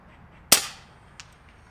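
A single sharp crack comes from an FX Maverick air rifle fired as a sniper shot, close and loud with a quick decaying tail, then a faint small tick about half a second later in an otherwise quiet setting.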